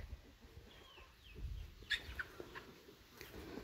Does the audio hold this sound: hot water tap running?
no